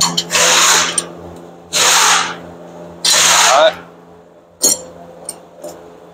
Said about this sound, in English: I'm gonna do it with my electric ratchet or whatever